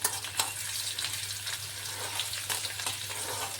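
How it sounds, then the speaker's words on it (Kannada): Crushed garlic frying in hot oil for a hill gooseberry (amla) pickle, a continuous close sizzle with a few soft stirring taps. "ಇವಾಗ ಈ ಬೆಳ್ಳುಳ್ಳಿ ಒಂದು ಸ್ವಲ್ಪ ಫ್ರೈ ಮಾಡ್ಕೊಳ್ಳೋಣ"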